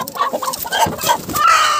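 Hens in a backyard coop cluck loudly and close, a quick jumble of overlapping calls with a guinea fowl among the flock.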